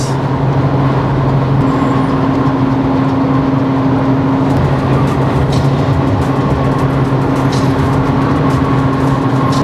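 Steady road roar and low engine drone from a 3.0T car cruising on the highway at 115 with two bikes on a Rassine suction roof rack, constant and close throughout with faint wind rush.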